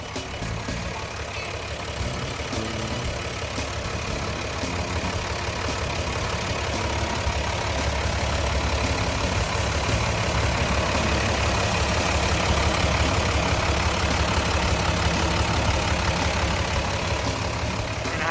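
A Komatsu WA200-1 wheel loader's six-cylinder engine idles steadily nearby, a continuous low diesel rumble with a mechanical clatter on top and no voices over it.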